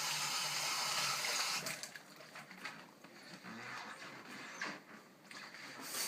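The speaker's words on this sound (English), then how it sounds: "let me rinse my hands off" Hands rinsed under a running kitchen tap during kimchi preparation, a steady close splash of water that fades and returns, with no talk.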